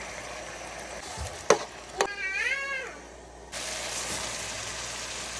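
Chana dal is tipped into a hot pan and starts frying with a sudden, steady hiss of sizzling that lasts to the end, preceded by a couple of clanks and a brief meow-like wavering cry.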